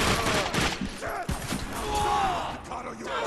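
Rapid bursts of gunfire in the video game The Darkness 2, dense overlapping shots and impacts throughout, mixed with in-game voices and effects.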